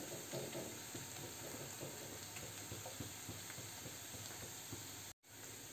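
Onions browning to golden in a pan for rajma, giving a steady close sizzle and crackle throughout with light stirring clicks, no voices, and a brief dropout near the end.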